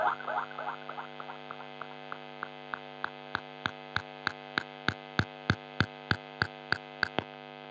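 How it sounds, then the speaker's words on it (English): Guitar through a NUX analog delay with gain added and repeats maxed, a steady stream of evenly spaced echoes ringing out and slowly squishing and degrading as the delay self-oscillates toward a buzzing hum, no voices. "how the tone starts to degenerate like a true analog delay would"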